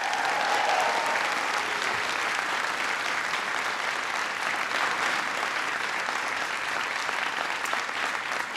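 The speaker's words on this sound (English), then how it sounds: "Give her a big round of applause" A crowd at a political speech on immigration reform gives a sustained round of applause, loud and even throughout with a few faint cheers early on.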